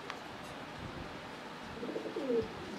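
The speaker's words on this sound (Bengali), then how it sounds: "আমি আপনাকে ধরে দেখাইতেছি কবুতরগুলা" Pigeons, racers and high-flyers kept at a loft, cooing in a soft, low rolling call that swells near the end, close by over steady background hiss.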